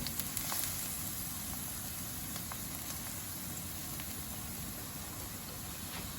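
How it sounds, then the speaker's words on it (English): Garlic frying in hot ghee for tarka daal gives a soft, steady sizzle, an even hiss with faint crackles, heard alone. "Allow this to fry"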